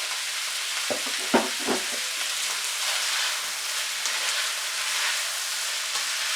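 Spaghetti sautéing in a pan for chicken carbonara, a steady close sizzle with a few sharp scrapes and clacks of stirring early on, no talking.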